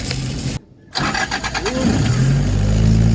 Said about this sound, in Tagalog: agaw pansin ba ang carboat ni Sir RJ tumatakbo gamit pa rin ang susi ng owner's jeepney